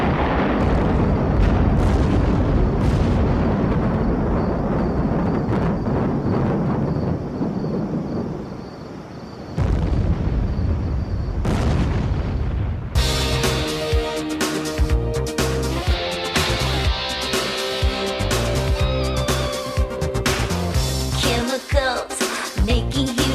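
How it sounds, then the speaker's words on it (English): A huge chemical reaction explosion booms and rumbles loudly, with deep, rolling blasts that fade after several seconds before music takes over. "Chemicals making huge explosions"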